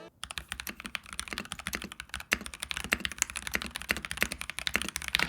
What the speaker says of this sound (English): Here's a short sound test of what the keyboard will sound like out of the box.